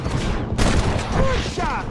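Gunfire in the video game Red Dead Redemption: a loud, sharp burst of shots that rings out amid dense, noisy action, with voices talking around it.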